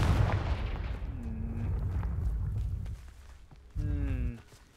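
Confringo spell explosion in the Hogwarts Legacy video game: a low booming blast at the start that rumbles on, with short chiming spell tones layered over the game's ambience.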